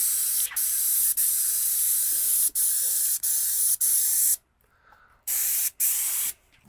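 Loud, close spraying hiss of an airless paint sprayer in repeated bursts, briefly interrupted by short pauses and one longer stop before resuming.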